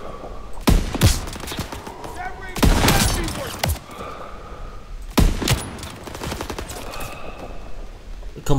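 Gunfire in the World War II shooter game Call of Duty: WWII: sharp, loud shots crack out in scattered bursts over a steady battlefield din, with someone talking at times.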